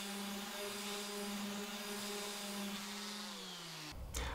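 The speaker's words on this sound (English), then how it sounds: "Now I just give all the bits a quick sand down just to remove any saw marks." A steady electric sander whines continuously while smoothing oak picture frame pieces to remove saw marks, a close, constant motor tone that cuts off abruptly near the end.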